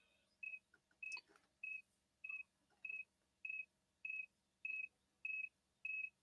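A phone in a home craft setting beeps steadily, about ten short, evenly spaced electronic tones over faint background noise, with brief handling sounds near the start.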